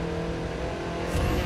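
Engine of a tuned Audi TT RS Stage 4 accelerating in a racing video game, a steady loud roar with a slight rise in pitch and intensity near the end, no voices.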